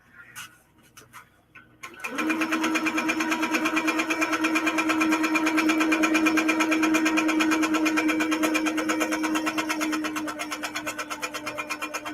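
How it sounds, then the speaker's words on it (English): A sewing machine free motion quilting a feather design's center spine starts after a few light clicks and then runs continuously with a fast, even needle chatter and hum, close and moderately loud. "I am going to start by free motion quilting the center line"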